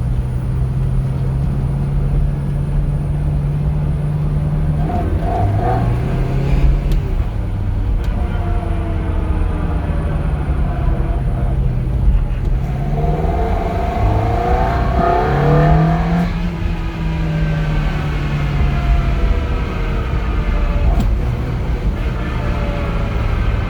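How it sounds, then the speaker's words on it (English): A Ferrari with a coolant fault, bought at auction, driving along with a steady engine drone and a low, wavering, mournful whine that rises and falls during deceleration, close and continuous. "This noise, which happens upon deceleration, sounds like an extremely sad string instrument"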